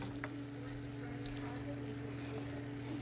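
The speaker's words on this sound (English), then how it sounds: "I like to saute my shrimp." Shrimp sautéing in a pan gives a steady, quiet sizzle with a constant low hum underneath, continuous throughout without breaks.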